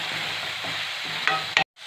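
Masala for a paneer curry sizzles steadily in a hot pan while a utensil scrapes and stirs, with a couple of sharper clinks before the sound briefly cuts out.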